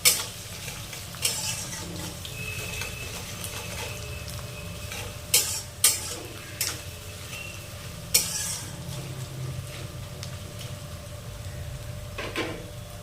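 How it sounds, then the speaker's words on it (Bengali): Onions browning in a frying pan for a home-style chicken recipe, with a steady low sizzle and intermittent sharp clinks of a spatula stirring against the pan, no talking. "এবার আমরা পেঁয়াজটা লাল করে একটু ভেজে নেব বেশ কিছুক্ষণ"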